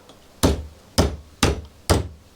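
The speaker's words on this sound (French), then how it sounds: "Et si je fais un petit coup de marteau, peut-être?" Four sharp hammer taps on a screw while repairing a budget Yamaha DTX electronic drum kit, evenly spaced about half a second apart, close and clear with short ringing decay and no talk.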